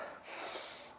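A short, sharp sniff drawn in through the nose, close and breathy, lasting under a second.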